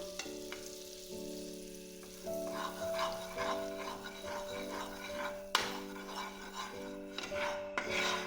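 Maida flour gets stirred into a hot pan for white sauce pasta, a faint sizzle with rubbing, scraping strokes over a steady tonal hum, quiet and without speech.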